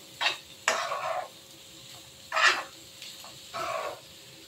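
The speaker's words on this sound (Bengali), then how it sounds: "সিমে রেখে আমি এটাকে একটু নাড়াচাড়া করবো" A spoon scrapes and clatters through spiced potatoes in a pan over low heat, four or five separate short stirring strokes with quiet gaps between them.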